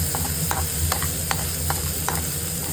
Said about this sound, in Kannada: ಇದನ್ನು ಫ್ರೈ ಮಾಡೋಣ ಚೆನ್ನಾಗಿ ಸ್ವಲ್ಪ ಕಂದು ಬಣ್ಣಕ್ಕೆ ಬಂದಮೇಲೆ ಈ ಮಸಾಲೆ ಹಾಕಿ